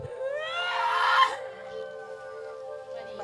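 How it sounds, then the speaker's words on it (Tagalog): A 30-year-old woman with a mental illness lets out a loud, rising, strained scream that peaks and breaks off, followed by quieter whimpering sounds at home. "Paminsan-minsan sumisigaw."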